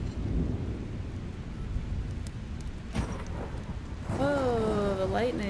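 Thunder rolls through a rainy scene in the video game Hyper Light Drifter, a low sustained rumble under steady rain, with a swelling crack near the end as a voice speaks over it.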